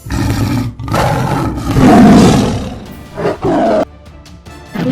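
A tiger roars and snarls loudly and close, in a dense growling stretch that peaks midway and then breaks into shorter gruff bursts.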